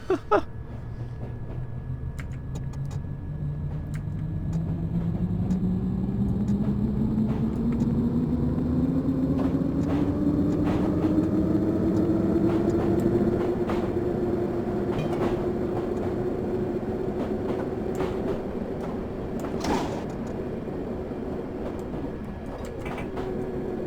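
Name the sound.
D78 Stock Underground train running, Train Simulator 2018 video game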